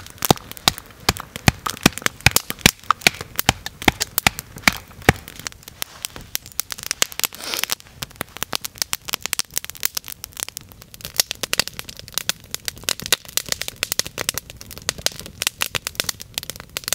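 Outdoor campfire in a Norwegian forest at Holtefjell, burning down to embers for making coffee, giving off dense, continuous sharp crackles and pops at close range with no talking.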